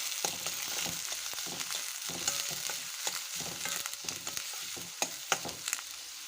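Green chillies and onions fry in hot oil in a pan for a Telugu tomato pappu, a steady close sizzle broken by clinks and scrapes of stirring.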